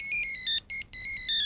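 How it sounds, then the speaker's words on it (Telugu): A phone ringtone plays in a Telugu comedy scene: a bright electronic melody of repeating tones that pauses twice briefly, loud and alone. "ఫోన్."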